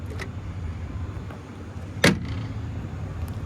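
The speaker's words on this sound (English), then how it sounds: "Right off the bat, you have your automatic drop down for the tailgate." A GMC Sierra 2500HD Denali automatic tailgate drops open with one sharp thud about two seconds in, heard alone against quiet outdoor background.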